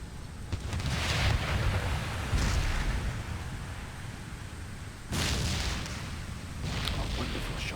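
Heavy artillery cannons fire in an Empire: Total War battle for Baghdad with a Russian army, booming blasts at irregular intervals over a constant rolling rumble of distant battlefield noise.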